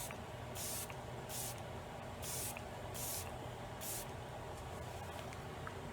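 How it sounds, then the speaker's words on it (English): Tarte Stay Spray setting spray misted from a light sprayer, five short hissing bursts at a steady rhythm, close but soft, over a constant low background hum. "I'm going to use this Tarte Stay Spray because I don't want anything to move."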